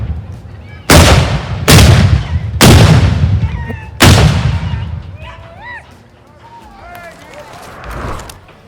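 Cannon fire at an artillery demonstration at Fort Belknap: four loud, sharp booms spaced about a second apart, each with a long rolling echo, followed by quieter crowd sounds and voices.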